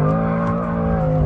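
A BMW M6 with a twin-turbocharged V8 slides sideways on its rear tyres, its loud, steady engine drone and tyre noise holding close and constant throughout.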